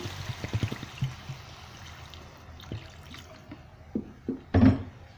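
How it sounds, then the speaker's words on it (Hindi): Water is poured into a pot of cauliflower and chicken curry for Sindhi cooking, a low, uneven trickling and sloshing with a few louder splashes toward the end, fairly close and without talk. "अब हम इसमें पानी डालेंगे, इतना पानी कि ये सब्ज़ी उसमें और चिकन डूब जाए।"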